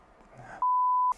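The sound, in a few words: electronic device beep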